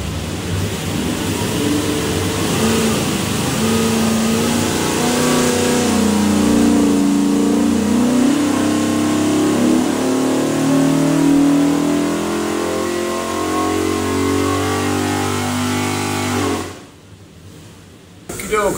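A drop-in 521ci big block Ford V8 built for a '68 Mustang roars on a dyno, climbing steadily in revs through a long loud pull before cutting sharply back near the end.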